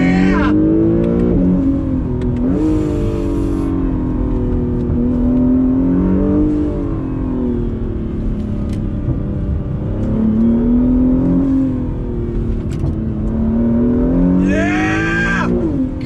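An Acura NSX sports car accelerates hard on throttle, its engine note loud and close as it climbs and dips through several surges of revs, with brief shifts and occasional whirring over a steady roar.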